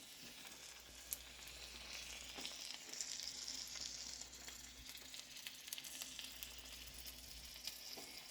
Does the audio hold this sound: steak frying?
yes